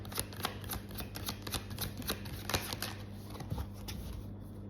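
Tarot cards being shuffled and drawn: soft, quick riffling and flicking of card stock, continuous and close but quiet, with light taps throughout and no talking.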